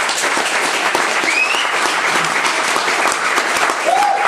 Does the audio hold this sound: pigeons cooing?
no